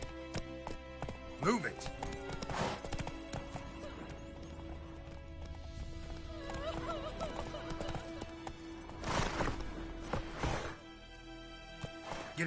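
Horse hooves clip-clopping at a gallop with whinnies in The Witcher 3 open world, steady hoofbeats under game music and ambience, with a shout of dialogue and brief impacts mixed in.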